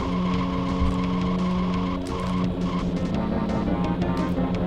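Racing car in the SNES game Top Gear, with a continuous loud synthesized engine drone and squealing tire skids while cornering on a circuit track, no talk.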